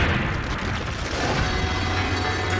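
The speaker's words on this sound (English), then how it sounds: "the grenade detonates." A hand grenade detonates with a deep, rumbling boom that fills the short stretch, loud and continuous with no talk.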